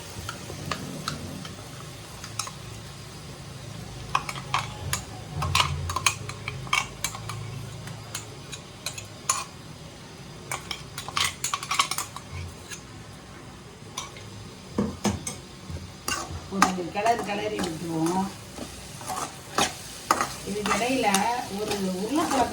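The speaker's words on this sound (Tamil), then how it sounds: "இது கூட இந்த அரைச்சி வச்சுருக்க மசாலா அதை வந்து நான் சேர்க்குறேன்" Ground masala added to Tamil-style mutton curry (kulambu) and stirred in a pan, giving intermittent scraping and clinking of a spoon against metal over a quiet low sizzle, with brief faint sounds between strokes.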